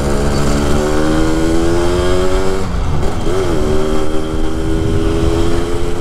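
Loud, steady engine running from a Yamaha RX King motorcycle fitted with a new original carburetor, with a continuous close drone that dips briefly and then recovers, and no talking over it.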